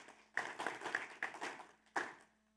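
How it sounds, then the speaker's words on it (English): Sparse, quiet clapping from a conference audience at a drug-policy gathering in Bogotá, a handful of separate claps and short bursts, faint and somewhat distant. "So please give yourselves a huge round of applause."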